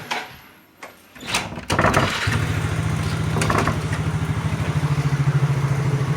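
A motorcycle engine starts up outdoors in the morning, with a couple of clunks first, then catches and settles into a steady, close, pulsing idle.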